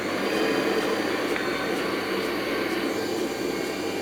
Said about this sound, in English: into a mixer machine with a whisk attachment, and we start whisking it